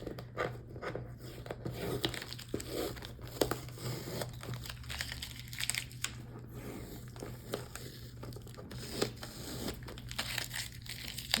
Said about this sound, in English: I'm going to take the masking tape off because I don't need it